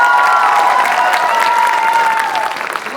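Audience at a student singing competition applauds, a dense, steady wash of clapping with some cheering and whistles that stays loud and close before easing slightly at the end.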